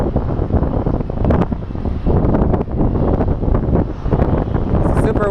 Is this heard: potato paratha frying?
no